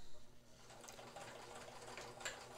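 A Kenmore 158.1931 electric sewing machine running a blind stitch with the needle down, giving a steady close mechanical whir with light rhythmic clatter that holds evenly throughout.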